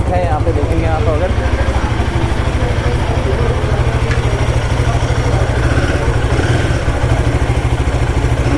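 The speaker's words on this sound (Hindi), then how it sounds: "यहाँ पे गोरिल्ला 450 खड़ी है और वहाँ पे हिमालयन 450 खड़ी है, बट दोनों के अगर आप एग्जॉस्ट देखेंगे सेम है। और ये इसका स्टॉक नोट है" A Royal Enfield Guerrilla 450 with its stock exhaust idles nearby, a loud, steady thumping single-cylinder note with a regular pulsing rhythm, and someone talks over it.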